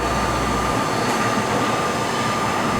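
A local train to Kotohira pulls out of a station near Takamatsu with a continuous loud rolling rumble and a faint high whine, heard alone without voices.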